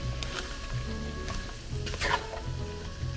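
Cabbage simmers and sizzles in a pan, a steady close frying hiss with a few spoon stirs and scrapes scattered through, no voices.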